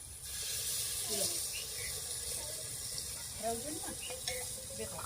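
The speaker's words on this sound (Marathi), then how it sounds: "आता यामध्ये आपण पाणी टाकूया थोडं" Water poured into a pan of desi mutton curry, a soft steady hiss and splash with faint bubbling and light clinks, under low background voices.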